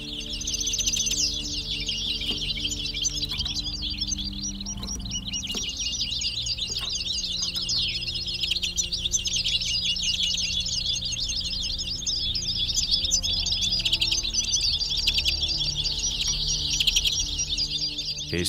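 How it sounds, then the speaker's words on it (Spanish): Goldfinches and greenfinches call without pause in the countryside near Matalascañas, a dense continuous chorus of bright twittering and chirps over low background hum. "Jilgueros y verdones llaman al campo sin cesar."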